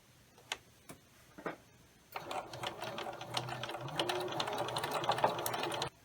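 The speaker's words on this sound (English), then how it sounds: "Then you will sew along your marked line." A sewing machine stitches layered fabric pieces, right sides together, along a marked line for a pumpkin quilt block: a few separate single ticks first, then a steady, close, continuous whirring run of rapid stitching that lasts to the end.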